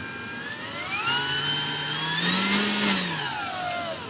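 Electric motor of a Volantex Phoenix V2 2 m RC plane runs on a bench, a steady loud whine with a rising tone partway through, continuing without pause rather than cutting off.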